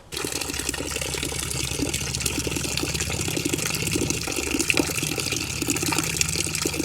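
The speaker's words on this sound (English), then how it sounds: "we'll fill this whole bucket with water" Water gushes steadily from a tap into a bucket, a continuous loud rushing fill that runs unbroken with no talk over it.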